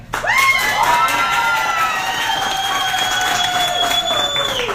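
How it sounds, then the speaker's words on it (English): Star Trek fans in a crowd at a costume contest vote with loud cheering, shouts and whistles, a sustained roar close by that holds steady for several seconds. "Intensity of applause, please"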